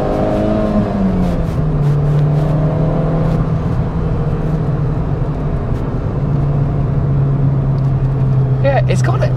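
Fiat Punto HGT engine and exhaust droning steadily under acceleration on a road, a loud sustained tone climbing then holding through the whole stretch.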